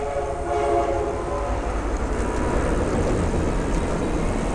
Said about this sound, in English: I don't know if you can hear that, train's coming behind me.